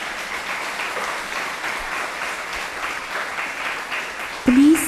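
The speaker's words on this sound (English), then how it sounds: "Let us give them a big round of applause." A church congregation claps steadily in a dense, even wash of applause, and a voice cuts in briefly at the very end.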